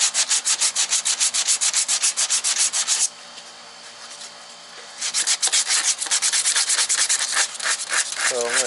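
A VW MK2 engine bay is sanded smooth with rapid rhythmic back-and-forth rasping strokes. A quieter pause comes midway, then sanding resumes loud and close.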